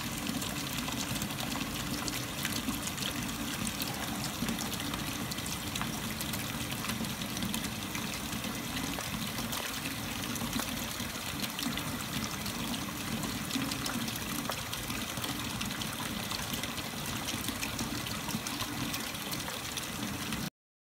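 Cold water running and splashing steadily over salicylic acid crystals during a wash in a lab setting, a continuous close trickle and rush with no talking.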